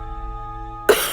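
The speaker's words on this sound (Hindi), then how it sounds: "माँ की खांसी बढ़ती जा रही" A woman's single sharp cough bursts out near the end after a sustained low musical drone, loud and close.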